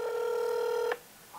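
A telephone call is being placed: a steady, loud dial tone holds for almost a second, cuts off abruptly, then a fainter tone starts again near the end, with no voices.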